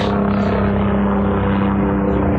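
A helicopter flies past outdoors, its loud, steady engine and rotor drone with a throbbing low hum dominating throughout, close and continuous with no other sounds standing out.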